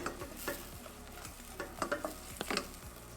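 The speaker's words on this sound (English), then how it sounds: "You must make sure that the oil and the butter melts properly" Oil and butter heat in a pan with a whole garlic clove, a faint soft sizzle under intermittent stirring clicks and scrapes from a utensil.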